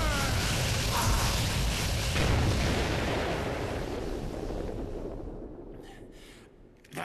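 A No More Heroes Destroy Buster special attack erupts as a loud, dense roar of booming blasts, continuous and heavy for about five seconds before thinning into a quieter rumble with a final burst at the end.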